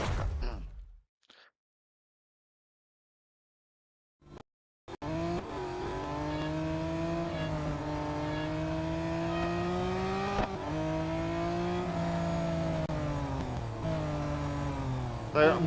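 Race cars in the mobile video game Real Racing 3 roar around a track after a brief silent gap, with a continuous engine drone, pitch shifts through gear changes and occasional tire squeal, alone without talk.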